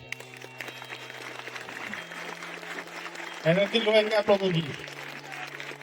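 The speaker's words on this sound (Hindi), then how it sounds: "एक बार जोरदार ताली आप अपने लिए बजाएं।" A crowd at a school farewell event applauds in a soft, continuous patter under an amplified voice speaking over a steady hum, with the speech growing louder partway through.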